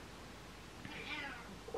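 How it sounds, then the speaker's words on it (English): A cat gives one soft, short meow, faint and somewhat distant against a quiet room background. "A little meow."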